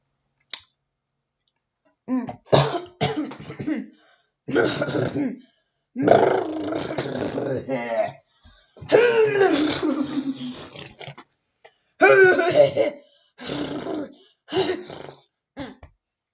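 A man coughs in repeated harsh bursts, several rough, throaty fits separated by short pauses, loud and close with no other sound between them.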